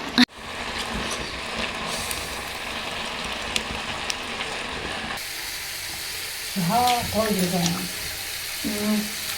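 Carrot halwa cooks in a pan with a soft, steady sizzle and occasional stirring taps, and a voice speaks over it in the second half.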